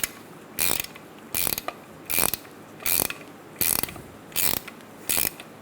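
Hand ratchet tightening the strut mount nut on a 2007-2012 Nissan Altima: seven evenly spaced bursts of rapid clicking pawl action, close and crisp, with short pauses between strokes.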